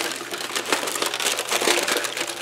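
Foil paper crumpled and crushed by hand for an art project, a continuous dense crinkling rustle with sharp crackles, close and fairly loud, no voices.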